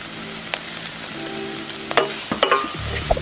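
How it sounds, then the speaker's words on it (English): Yellow onions and green peppers saute in a pot for a vegan sloppy joe, a steady low sizzle with scattered clinks and scrapes of stirring, a few sharper knocks near the end. "you want to saute your yellow onions and your green peppers for 2 to 3 minutes"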